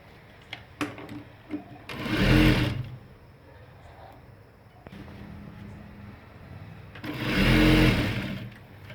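Sewing machine stitching a ladies' pant, running in two distinct bursts of a few seconds each with quieter handling sounds and small clicks in between, close and clear.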